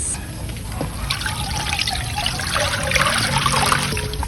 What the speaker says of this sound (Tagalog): Pagkatapos makuha ng juice ng kalamansi